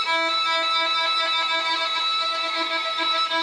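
A bright, sustained violin harmonic rings out steadily, bowed quickly with a slightly airy, shimmering texture and no pauses.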